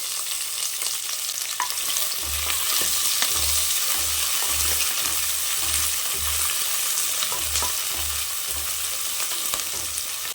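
Sliced big onion, green chilli, ginger and garlic fry in hot oil for a potato kurma served with ghee rice. The sizzle is loud and steady, with repeated low scraping thumps from stirring.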